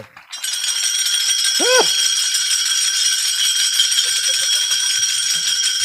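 In a kirtan, taal hand cymbals jangle continuously and loudly with a dense metallic shimmer, joined after a short quiet opening by a brief rising vocal tone and faint murmurs underneath.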